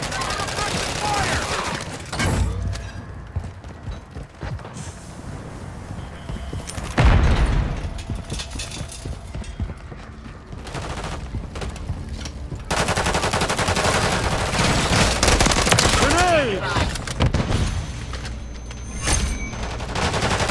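Heavy gunfire in Call of Duty: Modern Warfare 3 on the Highrise level, loud bursts of machine-gun fire and single shots with occasional booms, mixed with voices shouting over the battle.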